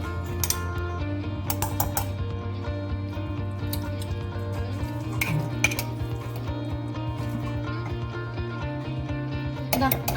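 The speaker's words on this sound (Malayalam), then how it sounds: "ഈത്തപ്പഴവും കൂടിയുള്ള അച്ചാറിലും ആ വിനേഗർ ഒഴിച്ചു കൊടുത്തിട്ട് നന്നായിട്ട് മിക്സ് ചെയ്തുകൊണ്ടിരിക്കുകയാണ്" Lemon and date pickle being stirred with vinegar in a container, giving soft repeated clinks, scrapes and wet mixing sounds over a steady hum throughout.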